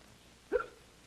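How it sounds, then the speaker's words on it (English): One short, sharp hiccup from an actor during a demonstration of hiccup cures pops up mid-clip against near silence, fairly soft and close. "we purposely failed to cure our actor of the hiccups"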